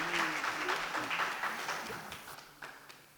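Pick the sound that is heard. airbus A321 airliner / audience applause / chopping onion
audience applause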